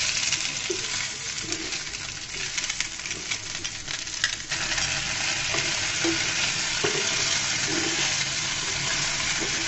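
Slices of bread soaked in milk and beaten egg sizzle in a frying pan as they are turned over. A steady crackling fry runs throughout, with soft scrapes and light knocks as the pieces are flipped.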